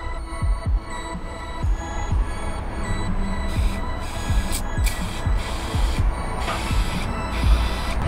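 A hand pump pressurizing a homemade reusable spray can gives a steady mechanical throbbing with repeated low thumps from the pump strokes, close and continuous over a background hum, with no talk.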